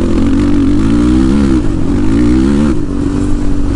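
Engine of a street-legal ATV quad revving steadily up and down close by, a loud continuous drone with wavering pitch and a brief dip near the end.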